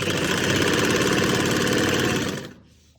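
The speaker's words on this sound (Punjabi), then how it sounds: "ਆਪਾਂ ਬਿਲਕੁਲ ਨਾਲ ਨਾਲ ਸਲਾਈ ਲਗਾਉਣੀ ਹੈ" An electric sewing machine runs in a steady, fast, humming rattle, stitching a salwar hem right alongside the buckram lining, then abruptly stops near the end; no voices.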